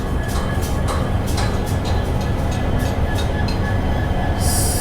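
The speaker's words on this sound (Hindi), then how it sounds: "साउथ ईस्टर्न रेलवेज EMD लोको पहुंच चुके हैं अपने टर्मिनेटिंग हॉल्ट, जो कि शालीमार रेलवे स्टेशन" The Okha Shalimar express, hauled by an EMD locomotive, rolls into Shalimar station with a loud, steady rumble of wheels on rails, rhythmic clicks over joints and a brief hiss near the end.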